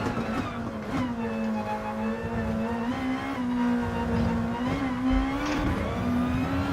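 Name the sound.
race car engine downshifting in video game Gran Turismo Sport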